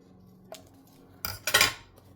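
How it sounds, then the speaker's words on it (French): Scissors cut through material for a recycling craft, with a small snip followed by a couple of sharp, close crunching cuts in quick succession before going quiet. "Hop, je coince mon ciseau et hop,"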